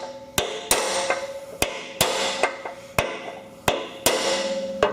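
A hammer and punch driving divots into a mower deck spindle bearing race on a Craftsman/Husqvarna mower, sharp ringing metallic strikes at an uneven rhythm, about nine blows, close and loud with no talk.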